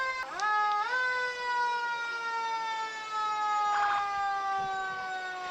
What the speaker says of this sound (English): You know, Abby, there's such a comfort in hearing those sirens.